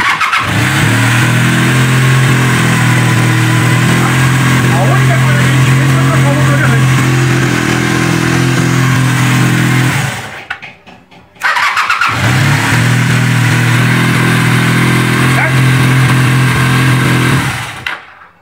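A motorcycle's electric starter motor cranks and the engine catches, running at a loud, steady idle close by; it cuts off briefly, then the starter cranks again and the engine runs once more before stopping.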